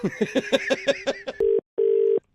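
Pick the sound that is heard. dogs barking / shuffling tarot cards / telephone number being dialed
telephone number being dialed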